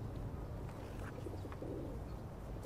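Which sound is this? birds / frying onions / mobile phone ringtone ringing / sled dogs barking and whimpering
birds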